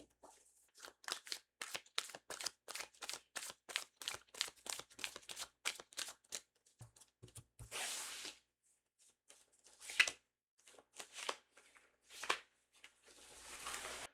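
Tarot cards being shuffled and drawn: a quick run of crisp, evenly spaced flicks and riffles, then a few slower, softer card slides and taps, close and quiet with no talking.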